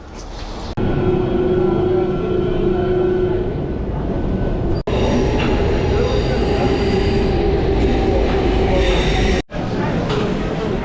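A train carrying football fans to the Union Berlin stadium rumbles along steadily, with a loud continuous roar and a tonal hum, broken by two abrupt cuts, and voices faint underneath.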